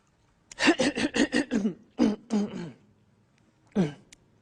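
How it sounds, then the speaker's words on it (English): A person repeatedly clears their throat in a quick series of rough, close bursts, then pauses and gives one final short clearing sound. "I'm clearing my throat."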